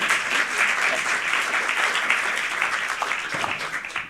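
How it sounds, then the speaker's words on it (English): An audience at a university film evening gives sustained applause, a dense wash of many hands clapping steadily and fairly loudly, tapering slightly at the end. "so applause for Wilma"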